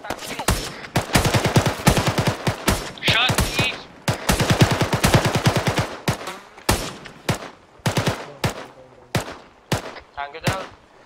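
Rapid automatic gunfire from an ArmA military simulation firefight, dense bursts of shots in quick succession, loud and close, with brief pauses between volleys and occasional radio-style voices underneath.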